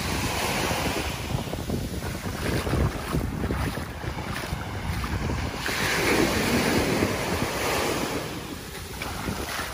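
Sea waves wash ashore at Patong Beach on Phuket. The surf rolls in a steady, full roar, with wind buffeting the microphone and no voices.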